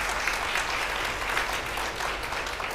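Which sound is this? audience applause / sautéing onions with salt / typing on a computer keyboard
audience applause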